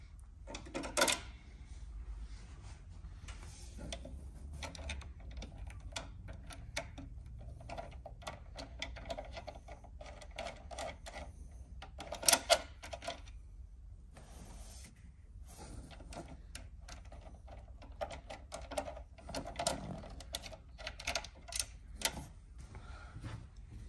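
A ratchet with a 10mm socket tightens the bolts on a full hood, giving a run of quick, faint, dry ticking clicks in irregular bursts across a quiet background.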